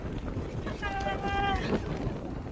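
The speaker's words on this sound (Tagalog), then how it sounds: "Grabe yung lakas ng hangin, guys." Strong coastal wind at Yehliu Geopark on the Taiwan coast buffets the microphone with a loud, constant roar, and a brief faint whistling tone rises partway through.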